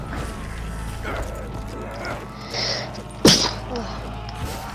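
One abrupt, loud sneeze cuts through busy zombie-game noise in Black Ops 3, set against mechanical clanking and gear-like ratcheting.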